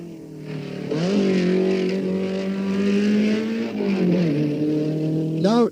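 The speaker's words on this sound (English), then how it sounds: "You can hear a car 10 kilometers up the road." A 1965 Targa Florio race car engine roaring through the Sicilian mountains, with a loud sustained drone, shifts in pitch and a sharp rev at the end, with echoes from the slopes and a voice talking over it.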